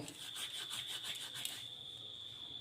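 Ajwain seeds are rubbed between the palms, giving a soft, close, gritty rustle in quick repeated strokes, faint and alone with a steady high hum behind it.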